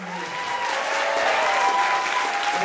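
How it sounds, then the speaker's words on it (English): Audience at a senior class creative writing reading applauding, a dense steady wash of clapping that swells and holds throughout, with faint talk underneath. "Ladies and gentlemen, one more round of applause,"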